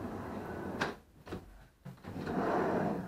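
Drawers in a wardrobe of a furnished rental room slide open and shut, a few quick knocks and rolling scrapes over a roomy indoor background.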